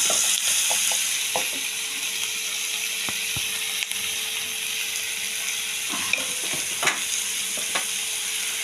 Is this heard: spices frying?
yes